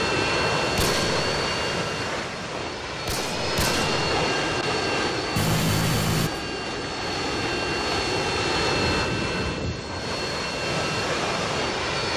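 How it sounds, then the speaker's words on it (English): Harrier jets roar overhead in Call of Duty Modern Warfare 2, a loud sustained engine rush with a few sharp bursts layered over dense game noise, no talk. "Waiting for your friendly Harriers inbound."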